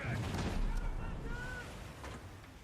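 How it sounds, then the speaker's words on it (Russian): A heavy, booming grenade blast from a video game with low rumbling that lingers and slowly fades, with voices talking over it. "О, граната с эффектом дробовик."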